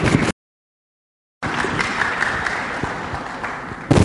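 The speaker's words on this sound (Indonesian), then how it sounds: "Tepuk tangan untuk Mas." Audience applause at an Indonesian talk or discussion event, a dense steady wash of clapping running for about two and a half seconds after a brief burst and a gap, close and fairly loud.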